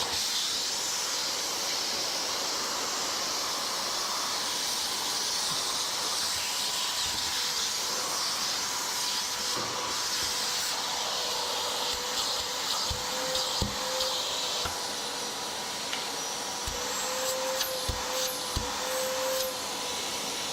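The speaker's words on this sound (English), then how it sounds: "here is our vacuum. We're going to go ahead and turn it on." An 8-gallon wet/dry shop vacuum runs continuously with a loud, steady hissing whine, broken by occasional clatters and thumps as debris gets sucked up near the microphone.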